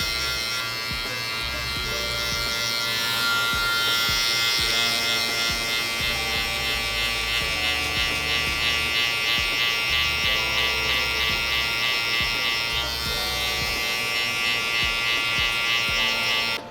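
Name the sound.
electric hair clipper cutting hair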